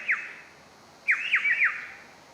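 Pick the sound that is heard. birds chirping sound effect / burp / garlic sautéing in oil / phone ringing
birds chirping sound effect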